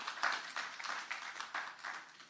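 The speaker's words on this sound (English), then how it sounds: "Give them a round of applause for that" An audience at a lecture and dialogue event gives a soft round of applause, with irregular clapping pulses that rise and fall and stay fairly distant and quiet.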